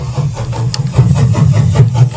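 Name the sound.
train track sound sample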